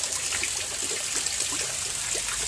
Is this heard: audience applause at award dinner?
no